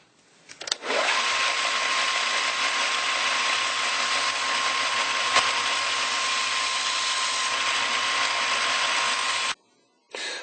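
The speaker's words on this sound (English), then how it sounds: "we're going to turn on the sander and carefully, I'm going to get rid of some material" A power sander shaping a bone banjo nut hums at a steady pitch for about nine seconds, then cuts off abruptly and starts again briefly at the end.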